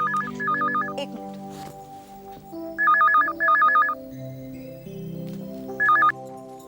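An electronic telephone rings in short warbling double bursts, repeated three times over a few seconds against a quiet indoor background of faint tones.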